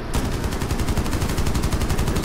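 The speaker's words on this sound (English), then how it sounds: "Now we're getting shot." Sustained rapid automatic gunfire in the video game Rainbow Six Siege, loud and continuous with a fast even rhythm of shots filling the whole moment.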